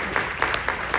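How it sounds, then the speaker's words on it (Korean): A seminar audience applauds the panelists at the close of a discussion with a short burst of steady, moderately loud clapping and a few louder claps standing out. "다시 한번 박수로."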